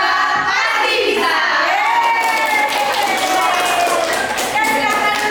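A class group in a university teaching session cheers and claps together. The shouting voices and hand claps form a continuous, fairly loud din that lasts the whole stretch.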